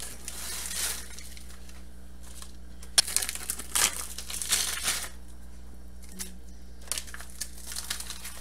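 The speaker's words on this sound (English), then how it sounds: "Now we're going to go ahead and add all of our frozen vegetables." Frozen vegetables tumble into a pot of broth in a few separate bursts of crackly, rattling rustle, each lasting about a second, with quieter gaps between them.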